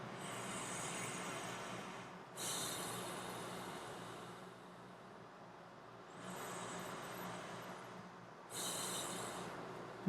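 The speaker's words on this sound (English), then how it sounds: "Do the in-breaths and the out-breaths completely on one side." Slow nasal breathing through a single nostril, with long airy in-breaths and out-breaths alternating in a steady rhythm, close and fairly quiet, no talking.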